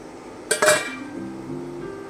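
A cake tin of dhokla batter is set into a pot of hot water and covered with a lid, giving a couple of sharp metallic clinks and clanks close by, followed by a faint ringing and a quiet background.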